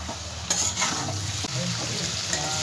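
Potatoes stir-fried with spices in a pan, a steady close sizzle with scraping stirs and a few sharper knocks of the spoon throughout.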